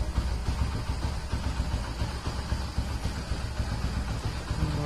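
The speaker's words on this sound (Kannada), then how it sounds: "ನೋಡ್ತಿರ್ಬೋದು ಇಂಜಿನ್ ಸೌಂಡ್ ಎಷ್ಟು ಸ್ಮೂತ್ ಆಗಿದೆ ಅಂತ." A Hero Honda 100cc motorcycle engine idles right after an oil change, giving a steady low, even putter that stays close and constant for the whole stretch, with no voices.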